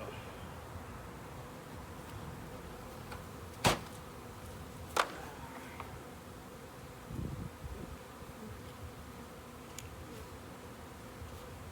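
Italian honey bees buzz softly and continuously close by at a backyard hive, with a couple of sharp clicks and a brief rustle partway through.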